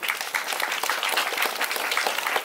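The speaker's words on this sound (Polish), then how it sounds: "wielkie brawa" A crowd gathered for an open-air concert beside the Knurów graduation tower claps warmly, a continuous even patter of many hands, unbroken and moderately loud throughout.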